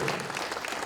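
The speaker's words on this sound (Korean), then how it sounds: "여러분 박수로" Brief burst of dense, continuous applause from an audience of mayors, county heads and district chiefs at a national general assembly, fairly faint and heard on its own.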